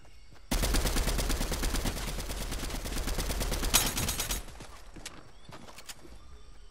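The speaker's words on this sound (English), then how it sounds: "I hear you shooting." Gunfire in the video game Fortnite, a dense burst of rapid rattling shots lasting several seconds, loud and close, then trailing off into a few scattered sharper cracks.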